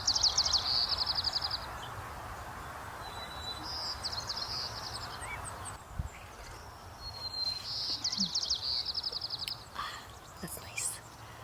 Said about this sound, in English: The birds are so cool.